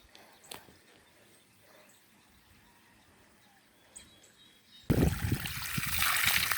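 Water pumped out from under a house trickles and splashes steadily in the open, at first quiet and faint, then suddenly much louder and nearer as the flow is approached, with occasional bird calls.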